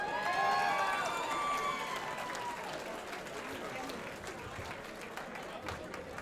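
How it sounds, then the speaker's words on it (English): An audience at a gathering in an Elks lodge in Lawrence, Massachusetts applauds for Al Valou, a broad, sustained clapping wash that starts strong and slowly thins out, with whistle-like cheers at the start and voices mixed in. "Let's have a round of applause for Al Valou!"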